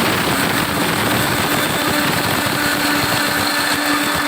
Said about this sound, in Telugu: మిక్సీ జార్లో వేసి బరకగా పౌడర్ చేసుకుందామండి